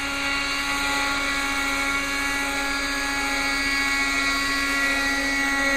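A Quickie .18 nitro RC helicopter hovers close by at half to three-quarter throttle, its small engine giving a loud, steady high whine with a constant buzz and no change in pitch throughout.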